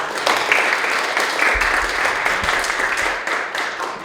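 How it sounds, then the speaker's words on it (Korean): Audience applause at a constitutional law lecture in a hall, a steady wash of many hands clapping at moderate loudness, sustained throughout without a break. "이황희 교수님께 다시 한번 뜨거운 박수 부탁드리겠습니다."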